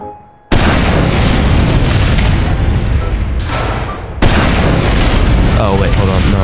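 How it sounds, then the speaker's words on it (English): Rocket blasts in the video game Team Fortress 2 during a training stage, a loud sustained roar of explosions filling the clip, with a brief dip before a second burst hits hard. "Rocket explosions can damage multiple targets."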